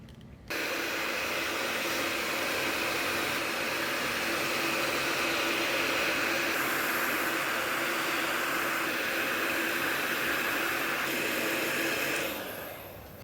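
A heat gun blows steadily on heat shrink clamps around car wiring for an LS engine swap, giving a loud, close, continuous whooshing roar that starts abruptly and runs about twelve seconds before cutting off.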